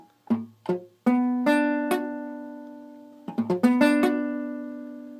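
A guitar chord is strummed and picked several times with pauses, some attempts sounding muted or buzzy before ringing out.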